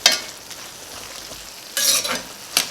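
Softening stir-fry vegetables stirred in a hot pan, a faint steady sizzle broken by a few brief bursts of scraping and clattering as the utensil moves them, close by with no voices.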